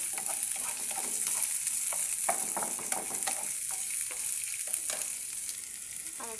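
Bitter gourd fries in oil with a steady sizzle and bursts of stirring scrapes along the pan, close and loud with no talking.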